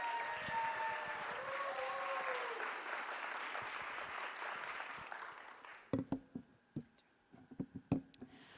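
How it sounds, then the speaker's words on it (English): A crowd applauds a girls' STEM board coming onstage at a keynote, dense clapping with cheers for about six seconds, then fading to scattered, sporadic claps. "Give them a round of applause."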